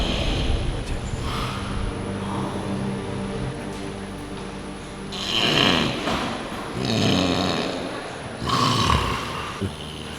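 A sleeping person with sleep apnea snores in heavy, rasping breaths, close and loud, with three long snores spaced a few seconds apart against a steady background hum.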